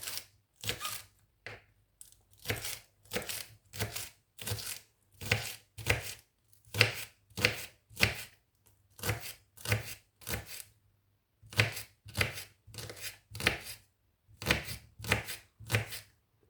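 A knife chops spring onion, green parts included, on a board in crisp, close, rhythmic strokes that come in quick runs with short pauses between them.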